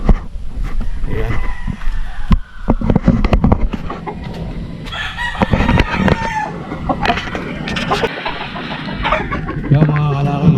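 Roosters at the Tilaok Game Farm crow loudly and repeatedly, several birds overlapping with clucks and farmyard bustle, and a car is faintly audible in the background.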